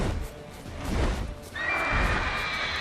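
A horse in The Witcher 3 video game whinnies twice, a short neigh followed by a longer, brighter one, with soft hoof and movement noise underneath.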